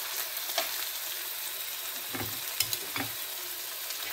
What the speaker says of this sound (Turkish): Bu arada domates sosum da kısık ateşte pişiyor.